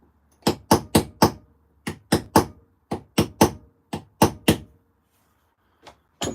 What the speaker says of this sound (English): you can't see the hammer and chisel.